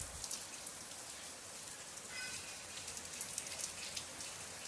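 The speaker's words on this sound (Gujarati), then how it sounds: "વરસાદ આવે છે" Steady rain patters down, a dense hiss of drops striking surfaces with scattered sharper splashes, no voices.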